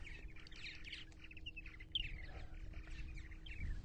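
Purple martins call near their nests on Eastern Long Island, New York, with bright, overlapping chirps and warbles repeating throughout over a steady low background rumble.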